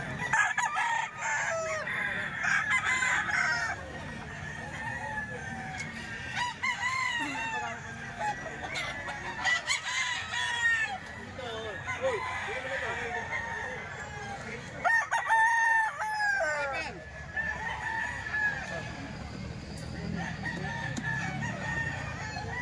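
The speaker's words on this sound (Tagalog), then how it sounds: "Mga manok na Boss Hapon." Boss Hapon's chickens and roosters crow repeatedly in long, rising calls, overlapping with clucks and honk-like cries from several birds at once, loud and close throughout.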